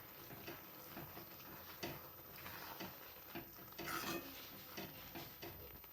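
Ketchup mixture stirred in a pan, with spoon scraping and clinking against the metal in an irregular rhythm over soft background noise, close and moderately quiet, no talking.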